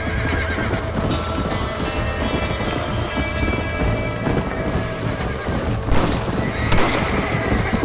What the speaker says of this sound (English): Dang, the horse does not want to go fast.